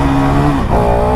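A 2025 KTM Duke motorcycle engine revs loud and close for a wheelie, a steady high-pitched drone whose pitch dips briefly and then climbs again as the throttle opens.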